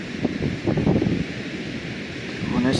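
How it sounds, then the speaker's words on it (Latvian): Strong gusting wind on a Baltic beach at Garciems, buffeting the microphone in a steady roar with rough surges, and a voice speaking faintly beneath. "Nu, tas vējš šodien briesmīgs."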